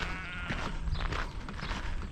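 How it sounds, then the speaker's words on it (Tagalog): Sheep and goats in a farm enclosure at Mount Maunganui, New Zealand, with a few short bleats heard at moderate distance over a buzzing, insect-filled outdoor background. "Mga tupa at saka kambing."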